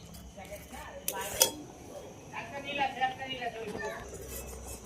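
Kheer semai payesh is stirred in a pot after sugar goes in, with a spoon clinking and scraping against the metal. The sounds are fairly quiet, a sharp clatter stands out early, and a voice talks softly in between.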